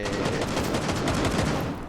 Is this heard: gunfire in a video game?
yes